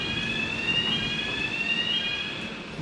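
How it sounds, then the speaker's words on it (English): An alarm in a New Zealand cow shed gives a steady, shrill electronic tone that holds without a break for about three seconds over a low ambient hum. "We actually put an alarm in the cow shed."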